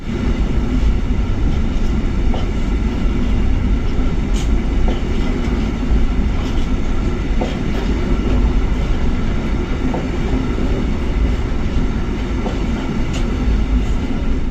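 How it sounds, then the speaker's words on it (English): A freight train rumbles past inside a double-track railway tunnel near Genoa, Italy, a loud, steady roar of wagons and rail noise with faint rhythmic clicks throughout. "have a look at a freight train passing by"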